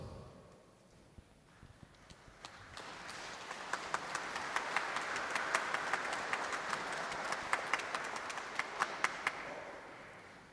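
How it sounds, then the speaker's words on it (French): Church congregation applauding after healing testimonies, starting with scattered claps that swell into a steady, fairly distant wash of applause with sharper individual claps standing out, then thinning near the end. "Le Seigneur reçoit vos applaudissements avec joie"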